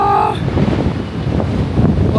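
Strong outdoor wind buffets the microphone with a low, continuous rumble and gusty roar, and a brief tonal sound opens the clip.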